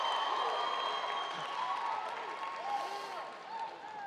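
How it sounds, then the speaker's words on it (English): An audience at a Rising Stars event applauds in a soft, continuous patter while someone talks loudly over it. "oh, watch this applause"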